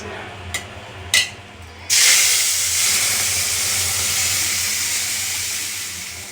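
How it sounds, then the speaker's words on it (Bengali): Tomato chutney hits a pan with a little oil and bursts into a loud, continuous sizzle that slowly fades, after two brief clatters at the start. "ওই টমেটোর চাটনিটা একটু কষিয়ে নিচ্ছে অল্প একটু তেল দিয়েছে"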